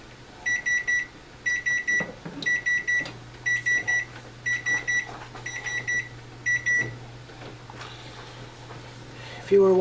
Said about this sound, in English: that was the timer for the canning processing to be finished